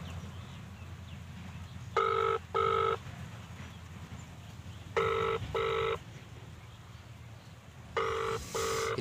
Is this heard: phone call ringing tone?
yes